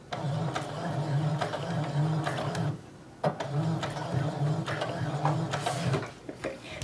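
A sewing machine stitches fabric for an 18-inch doll string backpack, a loud steady mechanical whir that runs in two long bursts split by a short pause, with faint clicks near the end.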